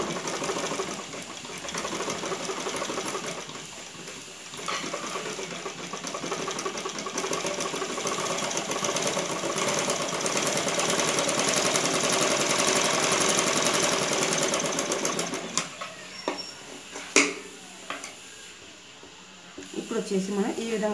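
A sewing machine runs steadily while stitching the rounded back neck of a saree blouse, a dense continuous whirring hum that pauses briefly near the end, with a voice present over it.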